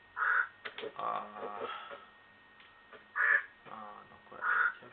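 Falcon cries from the video game Tomb Raider Remastered ring out as three harsh, raspy calls spaced across a few seconds, with fainter rustling between them and a man briefly exclaiming.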